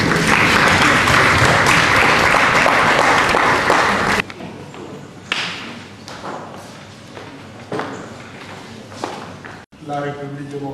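A crowd applauds at a press conference held by Congolese bishops: dense, loud clapping fills the first four seconds, then gives way to scattered thumps and talking.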